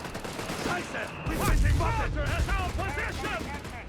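Machine gun fire from LD-40 emplacements in a Company of Heroes 3 match, with a heavy low boom near the start and then rapid bursts running under a commentator's continuous talk.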